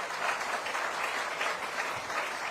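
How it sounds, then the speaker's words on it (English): Steady crowd applause at a government press event at Midtown Bus Terminal, New York. The clapping is even, sustained and fairly faint throughout, with no talking over it. "Let's give him a round of applause."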